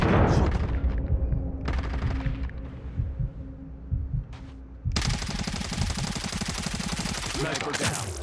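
Rapid automatic gunfire from the FSS Hurricane in a first-person shooter video game, sustained bursts of dense shots with a brief pause partway through, loud and close.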